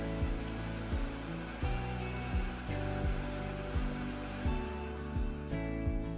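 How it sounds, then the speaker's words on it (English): A Vitamix blender runs with a loud, whooshing roar, its motor pitch rising and falling in repeated cycles of about a second as the contents churn, close and without talk. "I love my new Vitamix."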